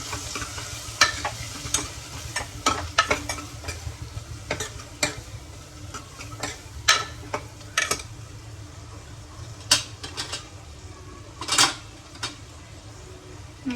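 Sambar masala mixture with homemade onion masala being stirred in a pan, scattered scrapes and clicks of the spoon against the metal, uneven in rhythm over a low steady cooking hiss, close by with no talk.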